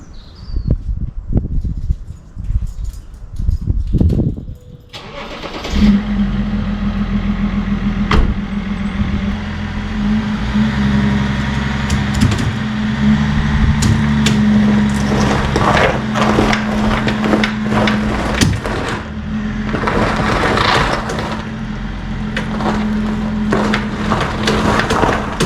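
A BMW X5 strains against a ratchet strap hooked to its tow bar: a steady, loud engine drone with a rising tonal hum starts after a few seconds of scuffing and knocks, with intermittent creaks and clunks over the running engine.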